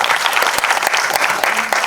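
Audience applause at a music album launch event, loud and dense clapping from a large crowd that rolls on evenly for the whole stretch, with no speech over it.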